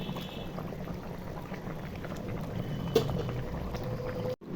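Tilapia fish curry with cauliflower and potato simmers in a pot, bubbling in a steady, moderate boil, ending in a brief knock and a sudden drop in sound, with no one speaking.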